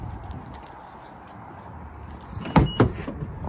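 The power tailgate of a 2020 Honda Odyssey EX-L closes with a quiet motor hum, then two sharp clunks as it shuts and latches.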